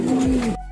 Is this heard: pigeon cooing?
yes